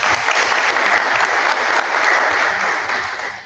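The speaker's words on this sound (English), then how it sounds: "Another round of applause." Congregation applauding during a church service, a full, steady roar of many hands clapping together, loud and even, fading a little toward the end.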